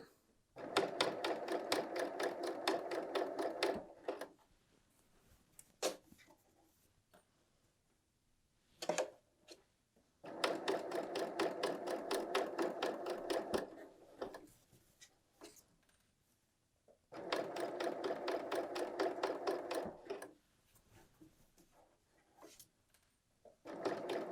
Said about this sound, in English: I have my needle set to stop down, and we're just going to sew across.